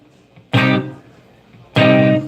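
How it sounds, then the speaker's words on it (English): Electric guitar played dry without any delay, two separate strummed chords, each bright and loud and cut off cleanly, with quiet gaps between. "Without the delay, it sounds like this."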